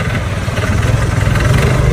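A boat engine runs on the Dong Nai river, a steady close chugging drone with a deep rumble that holds evenly throughout, with no voices.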